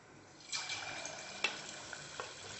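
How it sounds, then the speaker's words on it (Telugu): Chicken pieces for Chicken Manchurian drop into hot oil for deep frying. A faint, steady sizzle rises suddenly and carries on, with a few small pops and spatters. "మనకు ఆల్రెడీ ఆయిల్ వేడై ఉంది. ఇప్పుడు డీప్ ఫ్రై చేస్తాం."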